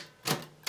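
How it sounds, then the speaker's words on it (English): Typewriter, a Torpedo 18B or Alpina SK24, with a single key pressed close up: a soft mechanical thunk followed by a sharp metallic strike, heard alone in a quiet room. "Typing one key down"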